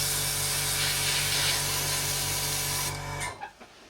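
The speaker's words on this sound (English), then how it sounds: "I'm spraying this quite a high air pressure because we want a little bit of texture for the weathering" Paint spray gun run at high air pressure, a loud, steady broadband hiss that holds for about three seconds and then cuts off abruptly.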